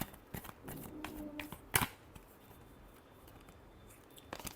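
Tarot cards being shuffled by hand in a short burst of soft papery riffling and flicks, with a sharper snap partway through, close and quiet with no talking.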